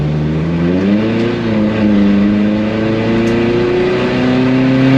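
A car accelerating hard on a hot lap: a loud, close engine climbs steadily in pitch through the gears, with a brief dip and rise, continuous and dominant with no talking.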